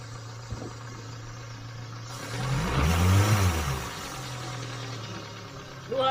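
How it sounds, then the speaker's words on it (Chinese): A new Yamaha outboard boat engine, in neutral, revved with the throttle: a steady low hum swells into a rising, thick roar for a couple of seconds, then settles back to idle, fairly quiet and heard alone. "我加一下油门给你们听一下啊，"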